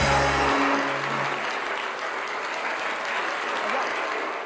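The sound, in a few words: studio audience applause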